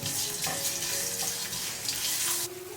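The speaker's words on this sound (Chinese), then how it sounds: "起锅热油爆香姜片" Ginger slices frying in hot oil for a five-spice duck dish hiss in a steady, bright sizzle. The sound is close and continuous and drops slightly near the end, with no speech.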